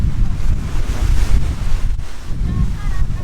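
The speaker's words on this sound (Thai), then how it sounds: "คลื่นแรงนะครับ" Strong surf pounds an Icelandic beach where a dead whale lies stranded, with loud buffeting wind roaring across the microphone in continuous gusts and no talk.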